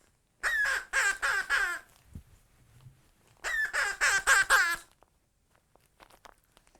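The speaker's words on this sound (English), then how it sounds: "he has quite a loud squawk" A toy rainbow parrot gives two loud bursts of shrill, rasping squawks, each made of about four quick pulses, separated by a short quiet gap.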